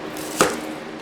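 A single crisp knife chop through a small sweet onion on a cutting board, one short close strike over a quiet room hum, with no talk.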